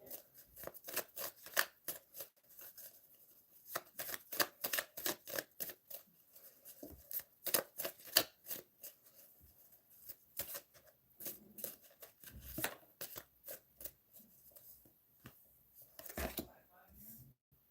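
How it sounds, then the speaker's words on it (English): Tarot cards being shuffled by hand close up: quiet, rapid bursts of crisp papery clicks and flutters in an uneven rhythm, repeating throughout. "I'm sitting here just shuffling these cards,"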